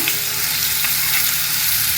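Diced watermelon rind pieces, outer skin removed, drop into hot oil with popped mustard seeds. A loud, dense, continuous sizzle of frying fills the whole stretch up close, with no talking.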